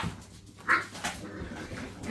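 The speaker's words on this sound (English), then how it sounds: "And now we've got bark, bark, woof, woof going on down here." English Springer Spaniel puppies, eight weeks old, yap indoors in a few short, quiet barks and whimpers spread over a couple of seconds, with faint household clatter around them.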